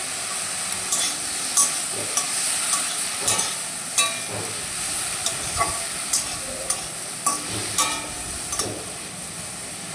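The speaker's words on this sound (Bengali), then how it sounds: "এই দেখো ফুলকপিটা প্রায় ভাজা হতে চলেছে" Cauliflower and potato sizzle steadily in a hot pan, with a spatula scraping and stirring at regular intervals, close and moderately loud.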